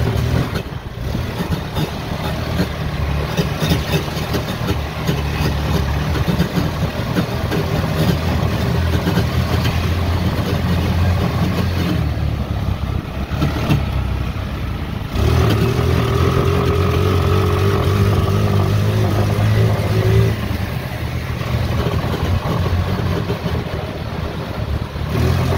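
A small carburetor engine runs steadily and close by, holding a rough idle with slight rises in revs, with no talking over it.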